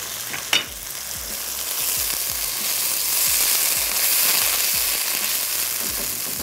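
Tomatoes drop into a hot pan and fry with a steady, close sizzle, starting with a sharp clatter and then a dense crackling hiss that swells and holds, without speech.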